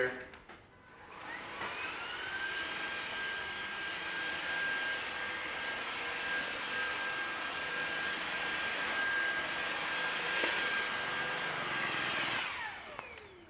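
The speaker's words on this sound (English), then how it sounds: "I'm not gonna make you watch me vacuum the whole thing" A vacuum cleaner starts up, runs with a steady high whine and rushing air for about ten seconds, then winds down when switched off, close by and fairly quiet overall.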